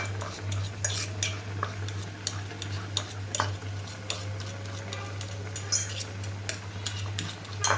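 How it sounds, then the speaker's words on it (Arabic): Food being mashed with a fork in a bowl for a ten-month-old baby's meal: rapid, irregular clicks and scrapes of metal on the dish, close and fairly loud over a steady low hum, with no talk. "كنمعكها مزيان بالفورشيت، مزيان كنمعكها حتى كتبان ليا انه بدات معوكه مزيان"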